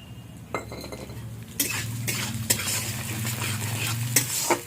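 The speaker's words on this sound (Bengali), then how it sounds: "তো প্রথমে চাল আর ডালটাকে ভেজে নেব।" Rice and dal frying in a pan while a spoon stirs them, a continuous sizzle broken by several sharp scrapes and clinks of metal against the pan, close and loud with no speech.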